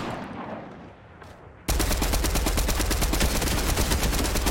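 Fortnite gunfire: after a quieter stretch of game ambience, a loud, rapid automatic burst starts abruptly and continues as dense, rattling machine-gun fire, close and sustained.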